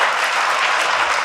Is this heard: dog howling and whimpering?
no